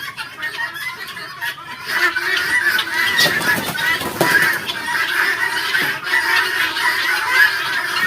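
Chickens calling in a busy poultry farm yard, a steady chorus of squawks and clucks with a few louder honk-like cries, fairly close and continuous.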